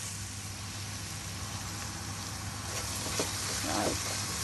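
Goat meat is stirred in a pan with salt and a ginger, garlic, methi and chili paste, giving a faint, steady sizzle with a few soft scraping stirs near the end and a low hum underneath.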